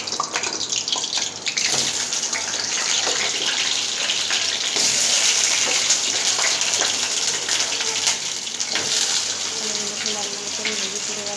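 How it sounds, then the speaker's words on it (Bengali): Potatoes fry in hot oil with a loud, continuous close-up sizzle and hiss, broken by scattered small crackles and pops, lasting throughout without any talking. "এবার আলুগুলো আমি ভেজে রেখে দেবো, ভেজে তুলে নেবো লাল লাল করে।"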